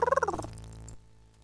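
Furry caged creatures in the Space Quest 6 video game purr in a quick series of rolling pulses that fade into a soft, low trailing hum.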